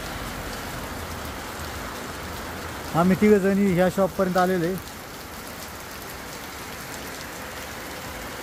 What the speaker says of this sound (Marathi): फॅशन स्ट्रीटवर फिरायला गेला असताना अचानक पाऊस सुरू झालेला आहे